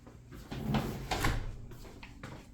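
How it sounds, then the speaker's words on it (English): A bathroom sliding door in a renovated private bedroom glides along its track with a soft rumbling slide and a couple of light knocks, heard close by and fairly quiet. "we have a beautiful sliding door for the bathroom also"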